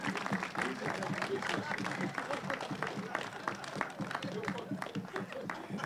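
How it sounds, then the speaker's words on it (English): An audience at a school ribbon cutting ceremony claps, a soft, even patter of applause heard from a moderate distance that holds steady throughout. "So let's give them, including our Senator Mr."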